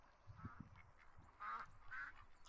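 Several duck quacks sound at close range, a few low honks early, then two louder nasal quacks stand out near the end.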